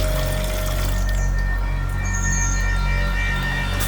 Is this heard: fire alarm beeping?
no